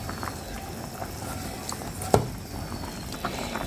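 A pot of tilapia fish heads and cooked bean seeds simmers with soft, faint bubbling and gentle patter, broken once by a brief sharp clink midway.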